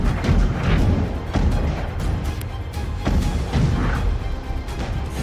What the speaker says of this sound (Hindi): फिर धमाका गूंजता है